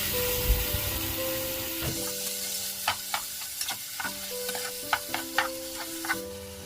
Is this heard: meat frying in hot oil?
yes